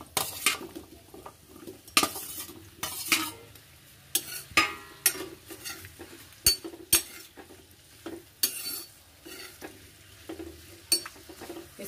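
Raw banana pieces fry in cooking oil in a wok, stirred constantly with a metal utensil, making sharp scraping clacks and knocks over a soft, quiet sizzle, close by and fairly irregular.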